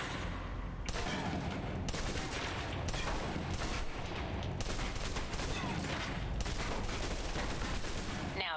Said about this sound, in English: Now, let's move on to the submachine gun. Now let's empty the clip.